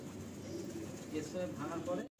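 Pigeons coo softly in a loft, several low rounded calls rising and falling over a couple of seconds, faint and close, with a person speaking over them.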